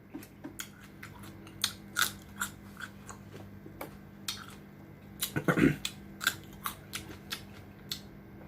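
Crunchy celery is bitten and chewed up close alongside lemon pepper wings, with a series of crisp, snappy crunches spaced irregularly and a louder cluster of bites near the middle.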